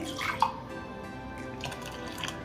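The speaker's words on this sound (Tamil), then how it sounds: "கொஞ்சம் தண்ணி ஊற்றி" Water trickles and splashes into a bowl of rava idli batter, a short pour with a brief brighter splash near the start, then a soft steady flow.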